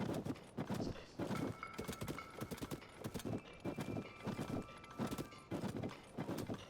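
Hooves from a horse in a video game clip-clop in a steady walking rhythm, soft and close, with faint game sounds behind them.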